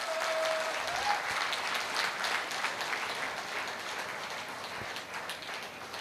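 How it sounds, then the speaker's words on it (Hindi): Loud audience applause at a Jashn E Meerut event celebrating a team achievement, a dense, sustained roar of clapping filling the whole stretch at a distance. "आपको अपने और अपनी टीम की इस शानदार अचीवमेंट के लिए एक जोरदार तालियों के साथ स्वागत करना चाहिए"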